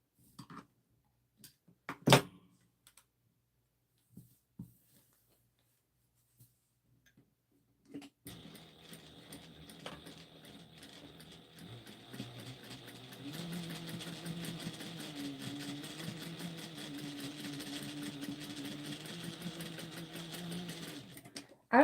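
A sewing machine stitches a Halloween trick-or-treat basket. A few sparse clicks and taps come first, then the machine starts and runs with a steady, close mechanical whir and rapid needle ticking for more than ten seconds.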